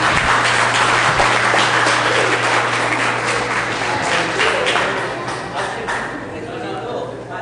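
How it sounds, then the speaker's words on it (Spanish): Broad, steady applause from a church congregation welcoming a speaker, loud at first and slowly thinning toward the end, with a faint low hum underneath. "Quiero pedirle para él un caluroso y fraternal aplauso."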